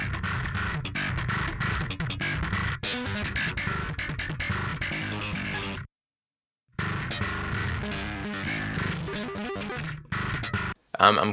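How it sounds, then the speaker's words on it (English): A heavily distorted, gritty metal bass guitar riff, input cranked for extra distortion, plays loud and continuous, cutting out abruptly for a moment of silence before the grinding tone returns. "we could crank the input to really push the distortion even more."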